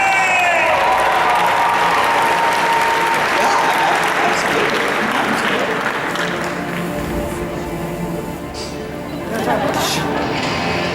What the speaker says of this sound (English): Clap and scream for Two-Face, everybody!